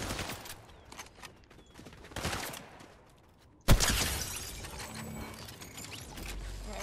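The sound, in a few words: gunfire in the video game Fortnite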